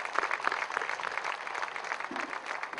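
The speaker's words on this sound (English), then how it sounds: "Let's give them another round of applause" Applause from an outdoor crowd at a statue dedication ceremony, a steady patter of many hands clapping that holds evenly for the whole stretch, moderately close and unaccompanied by talk.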